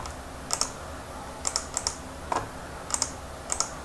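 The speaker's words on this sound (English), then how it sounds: "Somebody's typing" Keys on a computer keyboard clack in short irregular bursts of a few strokes each, close and crisp over quiet room tone.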